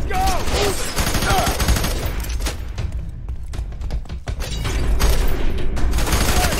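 Sustained video-game gunfire in F.E.A.R. 3 on PC: dense bursts of automatic shots and thuds fill the whole stretch, loud and continuous with a brief thinning in the middle before swelling again.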